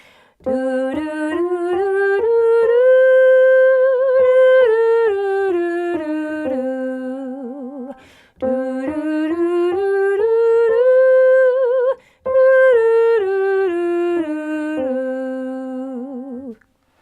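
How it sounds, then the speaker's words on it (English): A single clear voice sings a five-note minor scale up and back down, note by note, then repeats the same run again, alone. "let's have a go and have a sing of a minor pentatonic scale"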